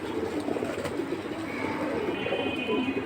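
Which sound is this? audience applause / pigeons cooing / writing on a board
pigeons cooing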